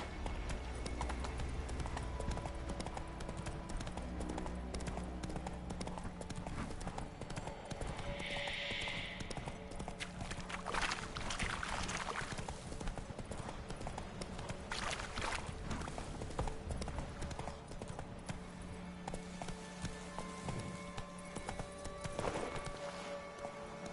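Horse hooves drum in a fast, steady gallop across a long stretch of play in The Witcher 3, moderately loud and continuous, with a brief burst of other game sound partway through.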